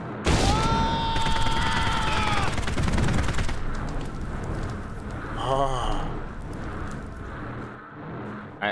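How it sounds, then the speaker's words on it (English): Shotgun blasts in the POSTAL Redux video game, a cluster of loud booming shots at the start with a steady roar of game noise and effects behind them, and a voice briefly talking over it. "Now that's a boomstick."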